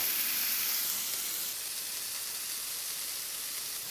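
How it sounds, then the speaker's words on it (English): Burgers sear on a Weber Slate griddle, giving a steady, loud, broadband sizzle that fades slightly after the first second and then holds constant with no talking. "let's go ahead and get these burgers searing"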